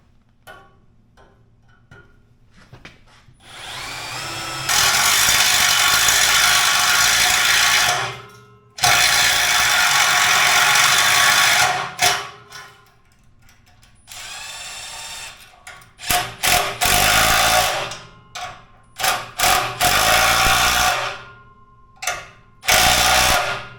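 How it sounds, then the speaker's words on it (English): A power drill bores a hole into a steel exhaust collector for an oxygen sensor bung on a 1980 Camaro with a 383 stroker, in loud whirring bursts, a long run then short stop-start pulses, close up. "So now I got to see if I can get the drill in here at the right angle."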